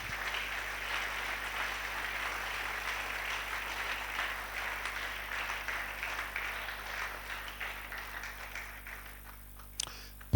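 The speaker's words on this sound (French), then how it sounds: "Acclamons le Seigneur." A church congregation applauding during a service, a steady, fairly faint patter of many hands that continues throughout and thins toward the end, ending in a sharp knock.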